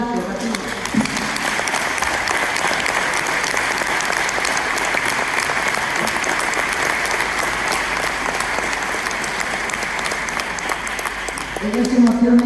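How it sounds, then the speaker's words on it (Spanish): Loud, sustained applause from an audience at an award ceremony honouring a federation of Asturian centres, dense clapping filling the whole stretch with faint voices at the start and end. "No llores, y un aplauso."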